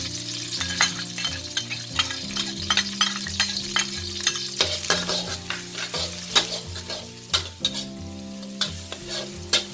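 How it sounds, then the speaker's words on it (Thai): Garlic fries in oil in a wok over medium-low heat, giving a constant sizzle broken by sharp, frequent scrapes and clanks of a spatula stirring it, close and alone. "เปิดไฟกลางค่ะมากลางอ่อนนะ แล้วใส่กระเทียมลงไปเลยค่ะ"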